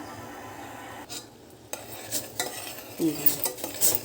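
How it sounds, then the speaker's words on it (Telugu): A spoon scrapes and clinks around a metal pot as tea decoction with ginger and cardamom bubbles quietly, with a few sharper knocks near the end. "ఇలా మరిగేటప్పుడు కూడా మనం తిప్పుకుంటూ ఉంటే చక్కగా ఇలాగా డికాష్ చక్కగా మరుగుతుంది"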